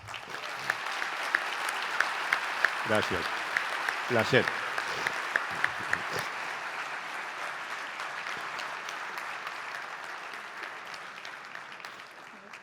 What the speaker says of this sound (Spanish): Vamos a despedir a Eduardo con un fuerte aplauso.